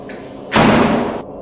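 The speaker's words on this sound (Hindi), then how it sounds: "दरवाजा अपने आप बंद हो गया।" A door slams shut on its own inside a dark room, one loud heavy bang with a brief rumbling tail, close and alone against a quiet background.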